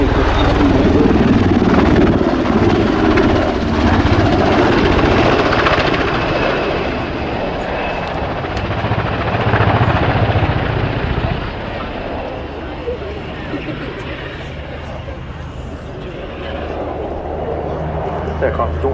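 An NH-90 helicopter passes at an air show at RAF Fairford, its broad rotor and engine roar loud at first and then easing slightly but holding steady throughout, with a commentator talking over it.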